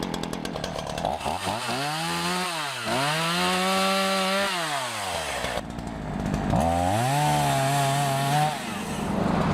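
A chainsaw revs up and bogs down as it cuts through trees, vines and bushes, its engine pitch rising and falling in two long passes, loud and close.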